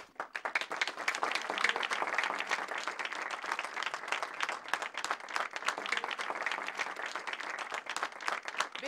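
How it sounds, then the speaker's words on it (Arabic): Villagers gathered outdoors clap together in a sustained round of applause, many hands striking fast and unevenly, fairly distant and steady, with a few brief voices poking through. "بكفي بكفي تصفيق، شكرا"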